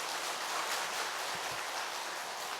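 A church congregation keeps up a dense, sustained round of applause, an even wash of many hands clapping at steady volume throughout.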